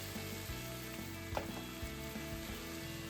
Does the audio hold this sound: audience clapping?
no